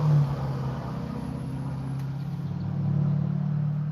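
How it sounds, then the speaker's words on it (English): A truck passing on a nearby road, a continuous low engine rumble and tire roar that swells slightly as it goes by, heard alone without speech. "I'll wait till this truck goes by"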